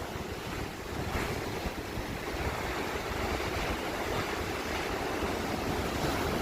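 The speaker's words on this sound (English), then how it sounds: "windy day and the sea is quite rough" Strong wind buffets the microphone and rough sea waves surge and crash nearby, a constant loud rushing wash with no voices.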